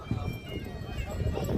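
Horse hooves gallop at a Neza Bazi tent-pegging event in Bradford, UK, a dull rapid thudding under loud announcer speech and crowd noise.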